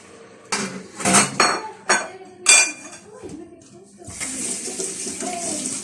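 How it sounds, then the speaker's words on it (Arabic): Water from a glass poured into a cooking pot of lentils in a home kitchen, a bright splashing rush following clinks of pot and utensils, with a soft voice in the background. "وغادي نزيد واحد الكاس ديال الماء."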